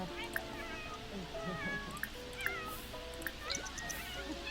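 A cat in the video game The Sims 4 meows several times, soft and fairly faint, over quiet game music while a person talks.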